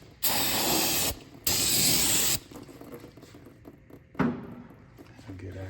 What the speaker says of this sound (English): I like to put the rotors on backwards so you can spray them down.